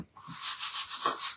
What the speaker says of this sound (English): I need to sand this just a little bit.